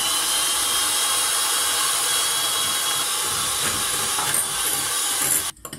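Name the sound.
chocolate mixture boiling in the microwave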